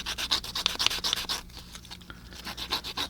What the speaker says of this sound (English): you can just make a really nice point with some rough sandpaper right on your